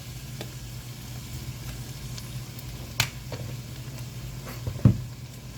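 Garlic sizzles steadily in a hot pan as a tamale pie filling is cooked, a constant frying hiss with a couple of brief clicks or stirs and no talking.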